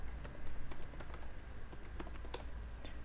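Steady typing on a computer keyboard, with sharp individual key clicks in a quick irregular rhythm, close and fairly quiet, with no voices.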